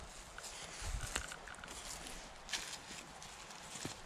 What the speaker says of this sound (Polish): Ale koń.